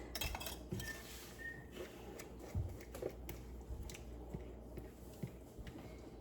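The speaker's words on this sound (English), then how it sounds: "I'll take the spatula and get it all scraped out" Spatula scraping smothered pork chops out of a pot, faint scattered scrapes and light metallic clinks at an irregular pace.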